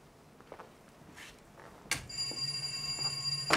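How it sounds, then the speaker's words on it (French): A bell rings in a kitchen offstage during an amateur adult theatre workshop play, a bright sustained ring after a sharp onset, heard at a distance over quiet room noise with faint footsteps or movement before it. "voilà qu'on sonne à la cuisine"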